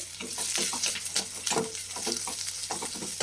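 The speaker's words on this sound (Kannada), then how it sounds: "ತೆಂಗಿನಕಾಯಿ ಜೊತೆಗೆ ಸ್ವಲ್ಪ ಬೆಳ್ಳುಳ್ಳಿ, ಹಾಗೆ 2 ಲವಂಗ, 1 ಚಕ್ಕೆ, ಹಾಗೆ 5 ಹಸಿರು ಮೆಣಸಿನ್ಕಾಯಿ, ಇಷ್ಟನ್ನು ಹಾಕಿ ಚೆನ್ನಾಗಿ ಫ್ರೈ ಮಾಡ್ಕೋಬೇಕು" Coconut, garlic, cloves, cinnamon and green chillies fry in a pan, giving a close, crackling sizzle broken by the repeated scrapes and clacks of stirring.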